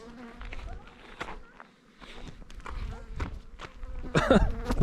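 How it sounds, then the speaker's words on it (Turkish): Bees swarm in thick numbers around a beehive, a steady insect buzz rising and falling with close passes by the microphone, mixed with rustling and footstep-like knocks. "her tarafım arı sardı"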